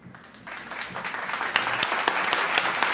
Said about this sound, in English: So we're gonna clap it up.